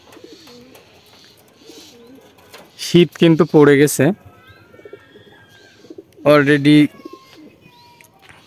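Pigeons in a loft coo quietly in the background, with someone speaking loudly over them in two short bursts.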